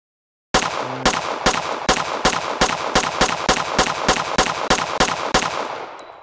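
Gunfire at a firing range in Anarchy SWAT VR: about fourteen evenly spaced, loud, close shots in a steady rhythm, each with a short decaying tail, the last ringing out alone.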